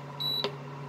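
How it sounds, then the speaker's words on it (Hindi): A pressure cooker's timer is set for okra sabzi, giving a single short, faint electronic beep over a low, steady background hum. "इसका टाइमर सेट कर दूंगा"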